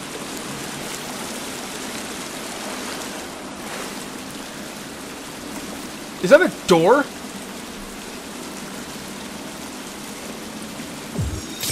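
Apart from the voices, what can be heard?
water sounds in The Forest video game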